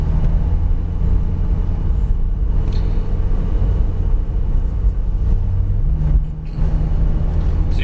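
A Porsche 911 GT3 race car's engine drones loud and steady from inside the cabin on a track, a deep continuous rumble with the exhaust opened up.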